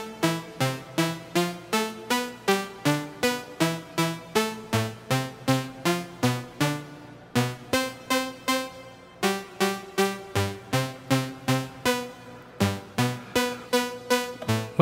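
Castor & Pollux modular synthesizer oscillators, two envelopes driving the mixer, played in mono with a little reverb: a steady, rhythmic stream of bright plucked synth notes, evenly pulsing with shifting pitches, loud and alone.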